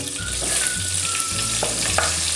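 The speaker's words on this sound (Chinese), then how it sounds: "这个虾油我们就不要倒掉了，现在开始放入辅料去炒。 先下蒜头跟姜，" Garlic and ginger hitting hot leftover shrimp oil, a loud, continuous close sizzle with soft stirring scrapes underneath and no speech.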